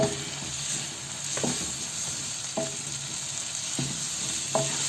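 Ground spices and ginger paste fry in oil while being stirred, a steady close sizzle with a handful of distinct spatula scrapes against the pan at roughly one-second intervals.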